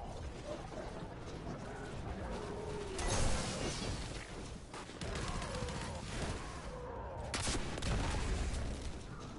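An auto rifle in Destiny 2 fires in sustained rapid bursts, dense and continuous with short pauses, amid explosions and combat noise, with a voice talking faintly underneath.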